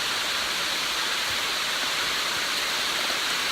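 Heavy rain pouring down on a hiking trail turned to running water, a steady dense hiss with no let-up and no voices.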